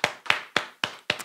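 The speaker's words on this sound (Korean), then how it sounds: "우리 하나님께 감사의 박수 올리겠습니다." A church congregation claps in thanks to God, heard as five or six distinct, evenly spaced claps in a steady rhythm, close and crisp.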